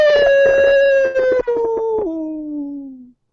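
A single long canine howl rings out loud and close, holding a steady tone for about two seconds before dropping in pitch and tapering off over three seconds.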